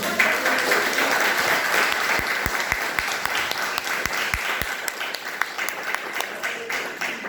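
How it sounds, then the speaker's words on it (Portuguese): A church congregation applauds during a mission service, dense steady clapping from many hands filling the room, with a few sharper individual claps standing out near the front. "Vamos aplaudir Jesus."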